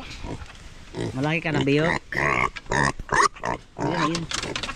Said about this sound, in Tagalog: Yun, nagpakain kami ng alaga ng baboy.